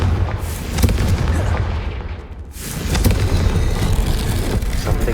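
A Confringo fire spell in the Hogwarts Legacy video game erupts with booming, crackling blasts, a sharp burst followed by a rumbling roar and a second surge of fiery noise, loud and close.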